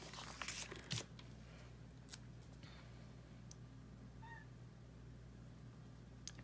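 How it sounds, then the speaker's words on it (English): A domestic cat gives a single short meow indoors, faint and somewhat distant, with a few soft clicks and rustles scattered before it in a quiet room. "Apologies for the cat meows."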